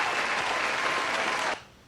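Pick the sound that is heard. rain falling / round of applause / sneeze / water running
round of applause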